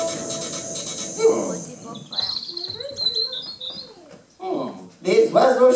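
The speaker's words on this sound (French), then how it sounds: "Les oiseaux chantent." Birds chirp and sing in short, close bursts that overlap with voices talking.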